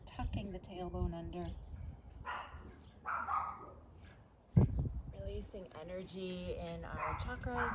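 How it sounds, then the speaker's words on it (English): Small cavapoo dogs barking and yipping intermittently nearby while a woman leads a calm yoga session, the barks rising in short bursts under and between her speech. "You can hear my little cavapoos barking."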